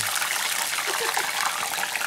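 Water splashes and pours during a bath. The splashing is brief, close and uneven, with faint voices underneath.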